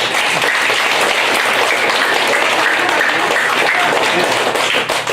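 An audience at a book launch for testimonies of families of forced-labour victims applauds the representative with loud, continuous, dense clapping that stays steady throughout and tapers slightly at the very end.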